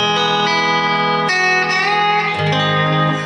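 A lap steel guitar rings out with sustained, gliding notes as the bar is laid down, swelling and sliding into a lower pitch near the end, played alone and close.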